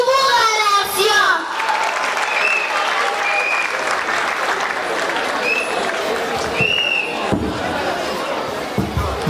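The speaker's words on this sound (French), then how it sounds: "Et on peut encore applaudir" Loud audience applause at a school open day event, dense clapping filling the room alongside cheering voices and a few sharp whistles, with brief speech audible at the start.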